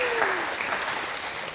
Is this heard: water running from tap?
no